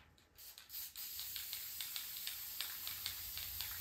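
Light coat of spray paint applied to a Jeep M38a1 while marking it, a steady close hiss of aerosol spray running continuously with brief pulsing bursts at the start.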